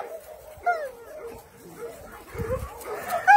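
Dogs at an animal shelter, giving soft whimpers, short yips and a few small barks against a quiet background, with faint voices now and then.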